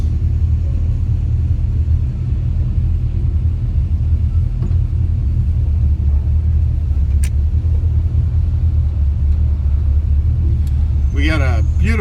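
A classic car cruises down Main Street at a cruise night, heard from inside as a steady low engine rumble and road drone, with a brief voice near the end.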